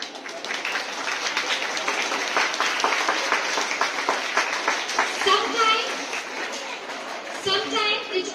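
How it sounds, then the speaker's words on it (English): Students at a Christmas Day school assembly receive sustained applause, a steady wash of many clapping hands with children's voices and chatter mixed through it, staying fairly loud for the whole stretch. "Please give a huge round of applause to these students who are just representing here."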